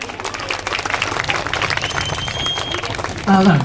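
A small audience claps in a burst of applause after a performer asks for it, with crowd noise and talk around it.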